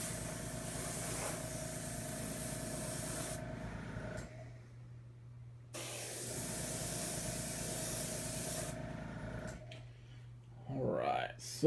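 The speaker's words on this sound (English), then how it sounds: "I sprayed that shadow gray up in there, from like up at the top area, and then again underneath" Spray gun applying shadow gray paint to a terrain piece, a steady close hiss in two long bursts separated by a quiet pause, with a low background hum.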